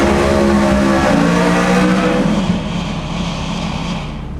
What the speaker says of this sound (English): I'm gonna try to launch a little harder here without doing a burnout